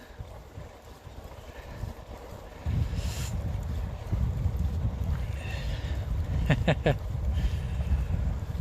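Wind buffeting a microphone while cycling outdoors in the Netherlands, a steady low rumble that grows stronger partway through, with faint brief clicks and no clear talk.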